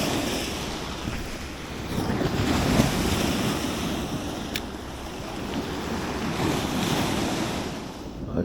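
Steady roar of murky sea waves washing in on the Giresun coast of Turkey, with a northwest wind buffeting the microphone throughout; no voices.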